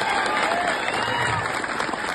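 Audience applause for the SVJC directors who arranged a program: a dense, steady wash of many hands clapping together, loud and sustained throughout with no pauses.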